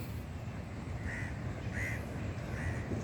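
Birds call out in a natural area of screw pine shrubs and casuarina trees where egrets gather. Three hoarse, crow-like caws ring out at even intervals, fairly faint and distant over a low outdoor background hum.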